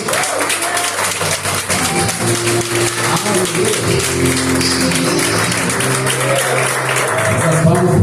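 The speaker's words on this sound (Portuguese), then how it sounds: "Essas palmas foram para mim." A church congregation applauds during a service, a dense and sustained clapping that holds steady throughout. Voices and some tonal sound run beneath the clapping.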